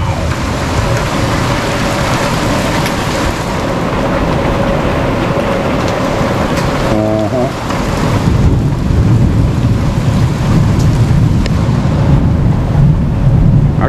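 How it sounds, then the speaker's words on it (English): A small storm with hail brings a rumble of thunder rolling through steady heavy rain and wind, a continuous loud wash with a deeper swell near the end. "There's gonna be a loud thunder right now"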